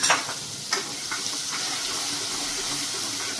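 Homemade masala of amchur powder, turmeric, chili, coriander-cumin and garam masala hitting a pan in a Gujarati kitchen while cooking chana shaak, a steady soft hiss and sizzle with a few clinks of stirring at the start.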